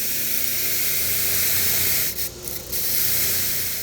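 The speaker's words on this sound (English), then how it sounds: "Now we're gonna go ahead and clean this up on the wire wheel." A rusty car battery bolt from a 2006 Audi A4 quattro is scrubbed on a spinning wire wheel, giving a loud, continuous abrasive hiss and whir with a brief dip in the grinding near the end.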